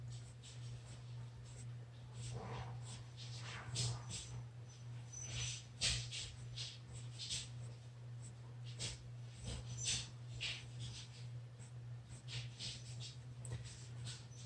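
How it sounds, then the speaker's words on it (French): Pet dogs indoors snort, sniff and whimper in faint, scattered bursts over a steady low hum, with marker scratching on paper nearby. "je sais pas si vous entendez mes chiens, mais ils sont tannants aujourd'hui"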